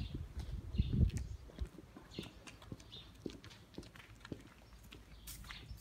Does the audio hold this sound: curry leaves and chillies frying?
no